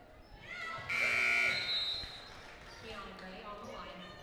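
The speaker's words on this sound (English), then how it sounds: "Shot clock buzzer." A loud electronic shot clock buzzer blares for about a second over a noisy crowd at a Chapman vs Cal Lutheran women's basketball game, then fades back into general crowd murmur.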